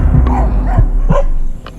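Dogs near a beach on Bantayan Island bark in a few loud, close, separate yaps spread over under two seconds, with faint whimpering tones between.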